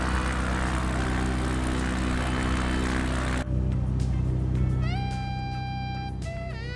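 A light general-aviation propeller plane drones from inside the cockpit on a sightseeing flight over the Aosta valley, a loud, constant roar that abruptly drops in level midway, followed by thin rising and falling whistle tones.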